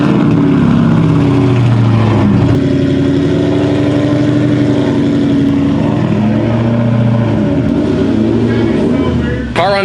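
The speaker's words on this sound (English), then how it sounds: "Car runs on its own power, which is good." A built Ford Mustang GT engine runs on its first start, a loud, steady mid-pitched idle with a rough rhythmic pulse that holds close and unbroken for about ten seconds.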